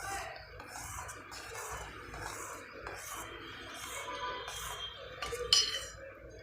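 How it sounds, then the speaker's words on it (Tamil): A ladle stirring cassava payasam in a pot over a medium flame makes a steady scraping and rubbing with light metallic clinks, one sharper clink near the end, close and moderately quiet. "கைவிடாமல் கலக்கிக்கிடலாம்"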